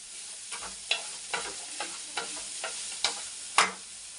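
Onion, dried red chillies and a bay leaf fry in a pan, giving a low hiss under a regular rhythm of spatula scrapes and stirs, roughly twice a second. The scrapes are close and clear, with no voices.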